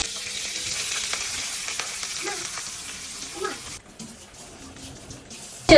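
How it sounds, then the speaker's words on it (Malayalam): Prawns sizzle steadily in hot coconut oil, a close, even crackle with occasional stirring clinks, ending in a sudden louder burst. "ഈ മാഗ്നറ്റ് ചെയ്ത് വെച്ചിരിക്കുന്ന പ്രോൺസ് ഇതിലേക്ക് ഇട്ട് കൊടുക്കാം"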